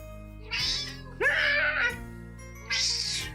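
A cat meows three times in short, close, clear calls separated by brief pauses, alone against a faint steady background hum.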